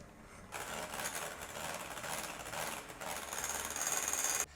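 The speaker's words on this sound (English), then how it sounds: "Now grab your electric hand mixer, or you could use a stand mixer." Electric hand mixer beating salted caramel cheesecake filling in a bowl: a faint, steady whirring motor buzz that starts after a brief pause and runs continuously to the end, alone without talk.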